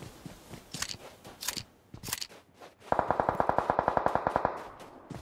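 Gunfire in a military shooter game: a few scattered distant-sounding shots and thumps, then a steady rapid burst of automatic fire that holds for about two seconds, loud and rhythmic.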